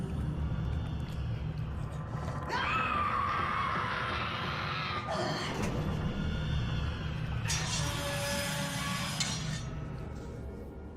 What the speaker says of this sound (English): After that incredibly eerie scream